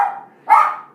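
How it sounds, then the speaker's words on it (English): Dogs barking in the background of a room, two short bursts of barking separated by a brief pause, moderately loud with no talk over them. "Sorry about my dogs in the background."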